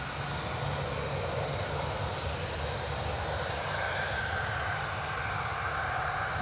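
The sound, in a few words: Tui airliner engine noise on departure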